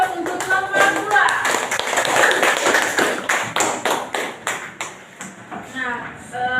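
A classroom group applauds group 2 during a statistics microteaching lesson, a burst of many hands clapping together that thins into scattered, rhythmic claps before fading.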